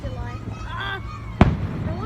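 A Fourth of July fireworks show in Palm Springs, with one sharp, loud burst partway through over a steady background hum, while spectators chatter and exclaim nearby.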